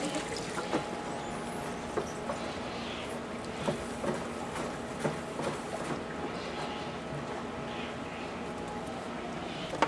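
Water flushes out of a pool DE filter in Las Vegas as a faint, steady pouring and trickling, with scattered small clicks and knocks over a low background.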